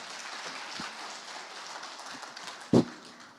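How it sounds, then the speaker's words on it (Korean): An audience at a geopark interpretation contest claps steadily in a soft, rain-like patter, with one louder thump near the end. "박수로 시작하겠습니다."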